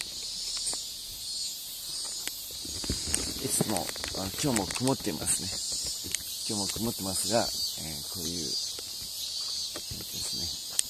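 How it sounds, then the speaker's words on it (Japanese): Cicadas shrill steadily in a continuous high-pitched drone on a cool, overcast morning after heavy rain, running throughout beneath someone talking in the foreground. "セミが鳴いてます。"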